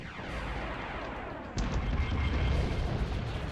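A turret firing in the video game Spyro 3 makes a dense, rumbling blast of noise that jumps louder about halfway through and holds there.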